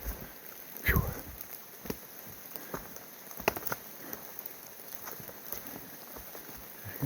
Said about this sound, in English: Still overcast and rainy.